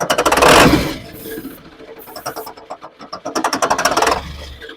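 A Ford 7.3L Power Stroke diesel with low batteries cranks without starting, giving loud, close, rhythmic chugging pulses from the starter in two stretches with a quieter lull between.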